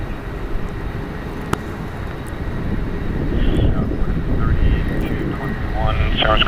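Airbus A380 airliner taxiing in to the terminal at San Francisco International Airport, a steady low engine rumble and whine that swells slightly over several seconds, with faint voices present.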